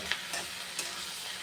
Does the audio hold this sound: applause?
no